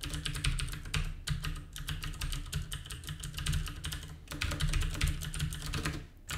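Quick, steady keystrokes on a computer keyboard as a password is entered, close and fairly quiet, with short pauses between runs of clicking and no talk.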